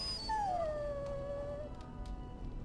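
A dog whines in Dragon Age: Origins, inside a castle larder. One drawn-out, falling whimper sounds clearly over a quiet game background.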